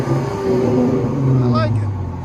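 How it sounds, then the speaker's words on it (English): Dodge Challenger SXT/GT 3.6L V6 with an aftermarket exhaust, heard from outside as a steady close engine note that swells briefly in a short rev, with speech underneath. "Rev it!"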